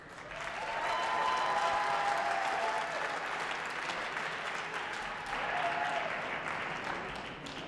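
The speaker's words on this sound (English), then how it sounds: "another round of applause for your boxers" Crowd at a West Point cadet boxing event applauding the two boxers after the fight, sustained broad clapping that swells early, dips briefly, then rises again before fading.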